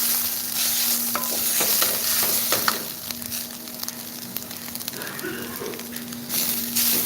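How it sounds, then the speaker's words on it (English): Coconut dry roasting in a pan, a soft continuous crackle with scraping stirs and light taps from a utensil, close and moderately quiet, no voices. "So we need to dry roast this coconut."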